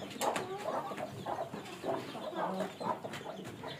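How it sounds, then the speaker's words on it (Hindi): Hens clucking inside a hen house where broody hens are kept, a run of short overlapping clucks and murmurs close to the microphone, steady and fairly quiet with no talking. "यहाँ पे हम कुड़क मुर्गियाँ रखते हैं।"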